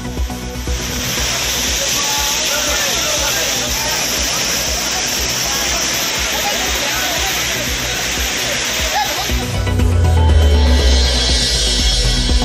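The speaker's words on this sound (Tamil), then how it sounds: "குற்றால பிரதான அருவியில் குறைந்த வெள்ளப்பெருக்கு." Water crashes down the main waterfall at Courtallam, a loud, dense roar that holds steady, then swells with a heavy low rumble toward the end.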